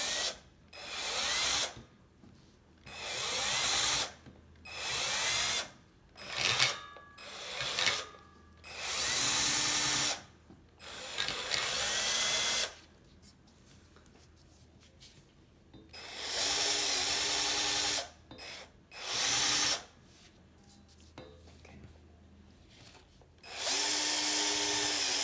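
A power tool strips rust from the edge of a 1959 Olympia Italian vintage steel cyclocross bicycle frame, running in loud repeated bursts of whirring and grinding that stop and start with short pauses between.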